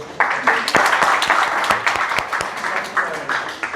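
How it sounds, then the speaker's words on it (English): An audience at a meetup session applauds steadily, a dense wash of hand claps that stays loud and close with a few sharper individual claps standing out. "Why are we so miser in clapping, guys?"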